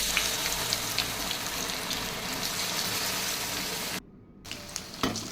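Jackfruit pakoda frying in hot oil sizzles and crackles steadily at close range, then briefly cuts out before light sputtering returns.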